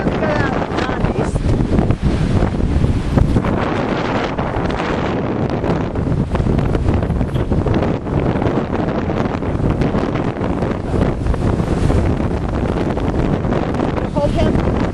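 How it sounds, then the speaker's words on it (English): Strong wind blows on a mid-October day at Sebastian Inlet State Park, Florida, buffeting the microphone in a loud, continuous roar that barely lets up from start to finish. "It's kind of windy."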